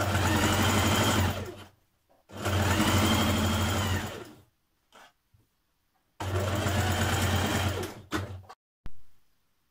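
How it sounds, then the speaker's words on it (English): A sewing machine basts fabric for a shirt dress, running in three long loud whirring bursts with short pauses and a final brief burst, close and alone. "So baste that in position now so it doesn't move around."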